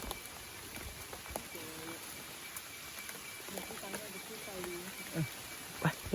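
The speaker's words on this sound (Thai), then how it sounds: "ฝนก็ตกหนักเลย" Heavy rain falling at night beside a giant banyan tree in a Thai forest: a steady, dense hiss that runs throughout, with faint voices and scattered knocks beneath it.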